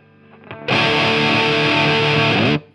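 Electric guitar through a Thermion Gasoline distortion pedal in vintage mode, a single sustained, heavily overdriven chord ringing loud and close for about two seconds after a quieter lead-in, then cut off.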